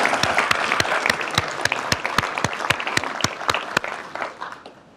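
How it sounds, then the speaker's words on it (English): Audience applause for panelists at a community bank case study Q&A session, a dense patter of many hands clapping that thins out into scattered claps and fades toward the end. "I would ask everybody to give them a round of applause"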